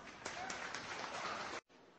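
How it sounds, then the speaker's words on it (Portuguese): An audience claps for an agronomist at a coffee-variety lecture: a dense, steady wash of applause for about a second and a half, then an abrupt cut to quieter room noise. "para quem eu peço uma salva de palmas"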